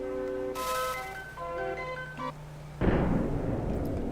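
A cannon fires for travel in Secret of Mana on the SNES, a short melodic chiptune jingle of stepped tones followed by a loud noisy blast that trails off into a hiss.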